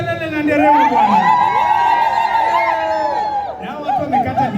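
A crowd cheers at the grand opening of a villa in Medellin, with loud, close whoops and drawn-out shouts layered over excited chatter and laughter.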